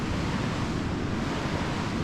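Ocean waves wash continuously at a surf beach in Nicaragua, a dense, steady roar of surf mixed with wind buffeting the microphone, with no voices.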